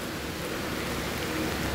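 Rain falling during a cyclone in Dhaka, heard from a balcony as a steady, unbroken hiss of dense drops, even and moderately loud, with no voices.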